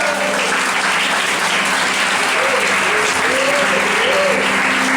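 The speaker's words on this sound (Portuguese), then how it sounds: "Aplauda o nome do Senhor." A church congregation claps together in a sustained, loud wash of applause, with a voice speaking faintly over it.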